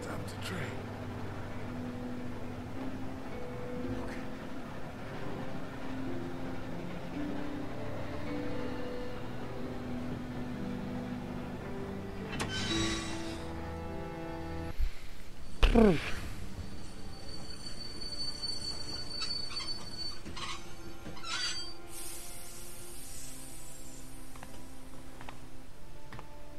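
A train in The Walking Dead video game rumbles steadily, then brakes with a sharp rising wheel squeal midway, followed by metallic ringing and hiss as it slows.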